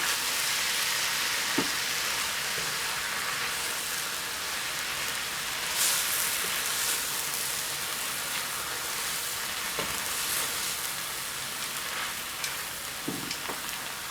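Vegan zucchini noodles sizzle in a hot frying pan as tongs stir them, giving a constant bright, hissing fry with a few faint clicks of metal, close up and steady for the whole stretch.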